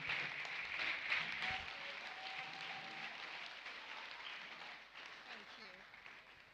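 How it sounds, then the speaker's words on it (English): An audience at a school career and talent event claps steadily to welcome a speaker, a dense spread of applause that slowly fades, with voices talking underneath it. "with a round of applause"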